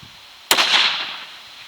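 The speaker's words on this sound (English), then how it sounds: "we'll fire 2 more shots" A single rifle shot from a Lithgow LA105 in 6.5 Creedmoor cracks sharply and close, then a short echo tails off over about a second.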